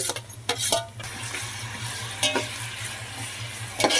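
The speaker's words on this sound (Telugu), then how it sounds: "ఉల్లిపాయ పచ్చిమిర్చి ముక్కలు అయితే చక్కగా వేగిపోతున్నాయండి చక్కగా మగ్గుతున్నాయి" Onion and green chili pieces fry in a pan with a continuous close sizzle, and a spoon clatters and scrapes against the pan in a few bursts as they are stirred. No talking.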